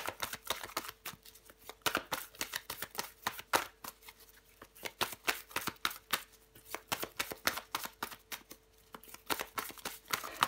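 Tarot cards are shuffled over and over in a quiet room, giving a fast string of crisp riffling slaps and soft taps that runs all the way through without talk.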